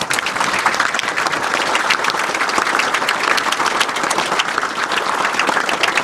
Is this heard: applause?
yes